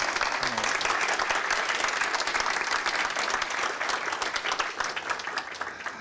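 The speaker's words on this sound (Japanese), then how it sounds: "改めて豊福社長に拍手 したいと思います" An audience at a corporate conference session on AI development claps for Fujifilm Systems president Toyofuku, a dense, even burst of many hands lasting about six seconds before thinning slightly at the end.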